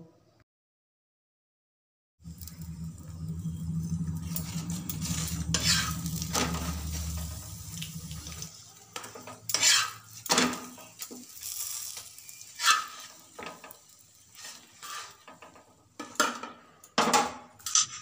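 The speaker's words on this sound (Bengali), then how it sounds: "এরপর তেল বা ঘি দিয়ে পরোটার 2 পিঠ ফ্রাই করে নেব" Cauliflower paratha frying in oil or ghee on a pan, a low sizzle in the first part, then quiet stretches broken by scraping and clinking of a spatula against the pan, fairly faint.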